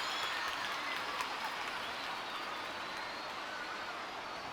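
Rival fans at an RCB vs CSK IPL cricket match clapping in a distant stadium, a steady wash of applause from a large crowd lasting several seconds.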